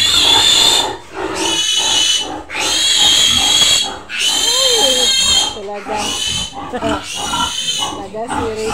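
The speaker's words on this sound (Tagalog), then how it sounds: "Iyak si Regine guys." Loud, shrill squealing from a newly weaned piglet on a small backyard pig farm, in repeated drawn-out bursts with short breaks, close to the listener, with a voice talking now and then.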